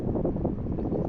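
Wind buffets a hunting hide outdoors, a low rumbling gust that roars steadily against the microphone with no voices.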